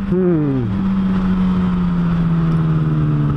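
BMW M3 car passing on a road, engine tone rising then falling into a steady loud drone as it goes by, with a voice talking over it.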